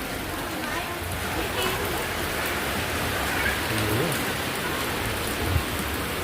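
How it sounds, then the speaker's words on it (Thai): Heavy rain pours steadily over an outdoor market in Pak Kret, Thailand, a loud, dense hiss of drops drumming on surfaces that continues unbroken throughout. "รอบนี้ฝนตกนานมากเลย"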